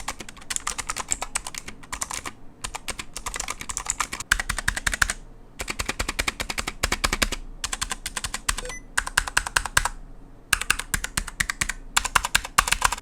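Rapid, crisp keystrokes on a Razer BlackWidow V3 Mini Phantom mechanical keyboard with yellow linear or green clicky switches, typed in close bursts with brief pauses between them.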